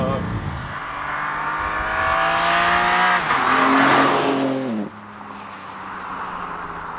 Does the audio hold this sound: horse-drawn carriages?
no